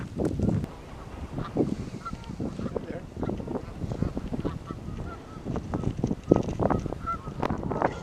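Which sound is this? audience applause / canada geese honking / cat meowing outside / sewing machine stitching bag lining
canada geese honking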